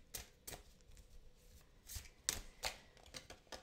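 Tarot cards are handled and shuffled close by, with soft riffling swishes and light slaps coming in short uneven bursts at a quiet level.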